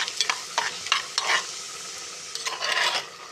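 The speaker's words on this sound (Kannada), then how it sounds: "ಬಾದಾಮಿ ಹಾಕ್ಕೋತೀನಿ ಅದು ಸಹ ಸ್ವಲ್ಪ ಗೋಲ್ಡನ್ ಬ್ರೌನ್ ಬರೋವರೆಗೂ ಫ್ರೈ ಮಾಡ್ಕೊಂಡು" Almonds frying in a pan until golden brown for beetroot halwa: close, steady sizzling with repeated scraping strokes of a stirring spoon against the pan.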